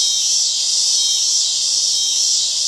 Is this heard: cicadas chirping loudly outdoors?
yes